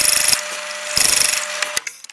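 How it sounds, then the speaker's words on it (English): A 10 mm trimmer cuts the ends of a brass tube for a razor handle, with a whirring tool motor and two short bursts of gritty scraping as it bites into the metal, then a few light knocks. "I've got a 10 millimeter trimmer in here"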